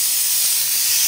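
Pressure cooker of dal on the stove releasing steam, a loud, close, continuous sharp hiss lasting about a second.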